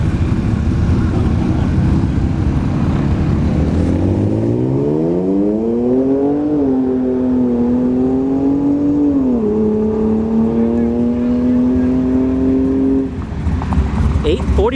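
A turbocharged Ford F-150 pickup makes a drag racing run at ShowTime Dragstrip. Its engine note climbs loudly through several gear changes, holds a high, sustained drone, then cuts off abruptly.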